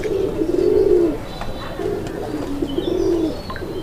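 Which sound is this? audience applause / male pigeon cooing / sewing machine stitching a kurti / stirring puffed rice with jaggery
male pigeon cooing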